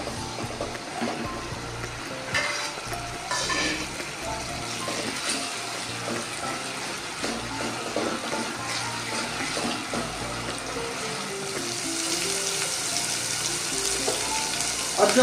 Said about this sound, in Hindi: ये हमने थोड़ा सा लहसुन अदरक को फ्राई करना है हमने ऑयल के साथ।